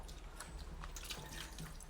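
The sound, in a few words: squeezing water out of soaked cooked rice by hand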